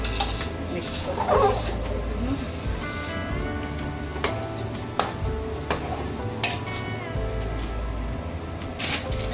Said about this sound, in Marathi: हे ढवळून आपल्याला झाकण ठेवायचं याच्यावर